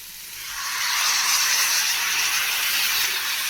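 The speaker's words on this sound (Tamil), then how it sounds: "இப்போ தக்காளி சேர்த்துக்கலாம்" Tomatoes dropped into hot oil for chicken gravy give a broad, steady sizzle that swells within the first second and holds loud and close with no voices.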